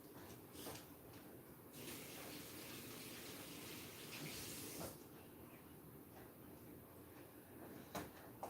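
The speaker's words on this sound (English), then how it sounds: "Wait a minute, let me rinse my hand." Tap water running steadily as hands are rinsed under it, a faint continuous hiss and splash with a few soft clunks and knocks, and no talking over it.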